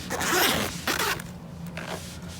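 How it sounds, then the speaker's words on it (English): A zipper on a pleather Z-Folio LX trade binder is pulled open in a few close, raspy strokes, one long pull followed by shorter tugs. "Opens with a zipper."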